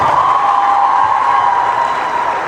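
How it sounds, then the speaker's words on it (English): A crowd applauds at a Nurses Week debate event. The clapping is a loud, steady wash with a faint sustained hum running underneath. "Give them another round of applause."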